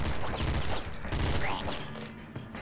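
Rapid gunfire crackles in the top-down shooter Nuclear Throne, a dense burst of shots with mechanical clicks and game effects blending together, fairly quiet throughout.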